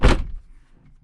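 A single solid car door thunk near the start of a drift-built Corvette, low and heavy, then settling quiet with a faint low rumble.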